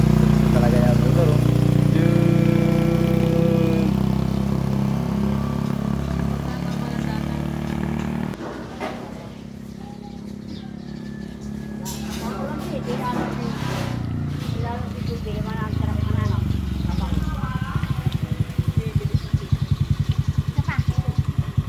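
Motorcycle engine running near a house in the Philippines while a rider practices, a steady droning idle that dips and then rises again, with people talking over it.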